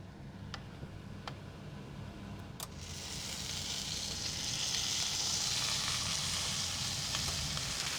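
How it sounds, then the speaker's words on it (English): Steak hits a hot pan in an Italian rosemary bistecca preparation, a few faint ticks giving way to a loud, steady sizzle of searing meat that builds and holds close up with no talking. "I want to press down either side till I hear that sizzle."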